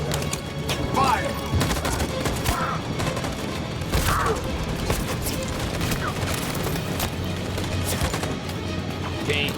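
Video-game gunfire in Detroit: Become Human crackles in rapid, dense bursts with scattered heavier impacts, while voices call out briefly over the battle.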